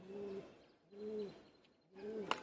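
Jhamar or chhati pigeons at the Beldanga market give three soft, rounded coos at an even pace, each one low and warbling, with a brief sharp click near the end.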